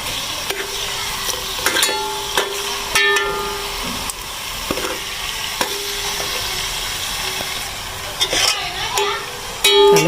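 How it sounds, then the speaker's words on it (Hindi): Masala frying in a pan for chicken keema with chana dal: a continuous close sizzle broken by repeated scraping and clinking stirs of the spoon against the pan. "थोड़ा मैं मसाला भून लूँ फिर आपको दिखाती हूँ।"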